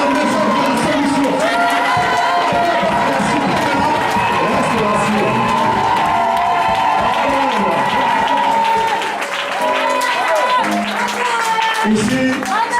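An evangelical church congregation cheers and acclaims God with loud, sustained massed voices and clapping that keep up almost without a break.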